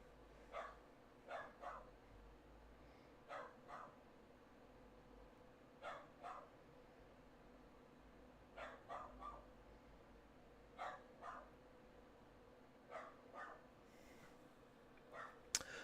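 A dog barks indoors in short repeated bursts of two or three yips, spaced a few seconds apart over a steady background hum, reacting to a delivery at the door.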